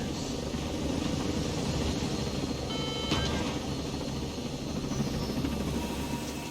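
A helicopter in the video game Ghost Recon Breakpoint roars with a loud, steady, close rotor and engine drone that fills the whole stretch without letting up.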